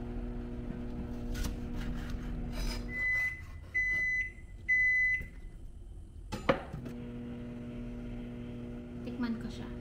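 A kitchen microwave oven heats food with a steady low hum, then gives several short electronic beeps before the hum resumes, and a voice speaks quietly nearby.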